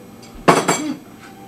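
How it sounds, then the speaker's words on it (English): A pork cutlet, breaded and fried country-style, is set down on a plate with two quick close clattering knocks against the dish, then quiet. "I'm going to take one of my pork cutlets, put it on the plate"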